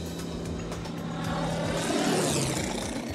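A Yak 55 aerobatic propeller airplane drones loudly overhead, its engine pitch shifting and sweeping downward as it tumbles and passes close by.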